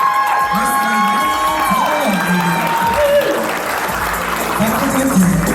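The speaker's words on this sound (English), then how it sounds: "a round of applause for contestant number 5, Miss Manaia" At a Samoan pageant contest, the audience claps and cheers loudly for a contestant, with shouts and whoops rising over dense clapping and a voice coming through now and then.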